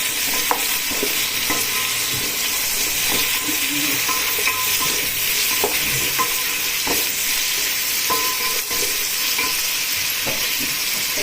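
Onions sautéing in a pan for mutton biryani, a steady close sizzle with repeated scraping of a spoon stirring against the pan, no voices.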